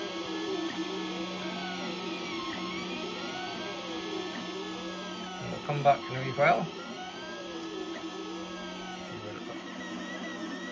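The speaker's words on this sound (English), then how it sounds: "when you get a 3D printer like this, you actually end up sitting watching it because it's fascinating" An EZT3D Model 1 delta 3D printer runs steadily, its stepper motors whining and sweeping in rising and falling tones with a constant fan hum; someone speaks briefly partway through.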